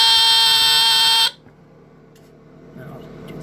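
A Hudson Mfg Co heat detector fire alarm, tested with a hair dryer, gives a loud, steady buzzing tone that cuts off abruptly after about a second and a half, leaving quiet room noise and faint movement.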